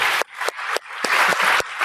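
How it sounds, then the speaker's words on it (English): A conference audience at a security talk applauds as the speaker liaison comes onstage: dense, steady clapping from many hands with brief dips, loud and close, no voices. "Applause for Bob"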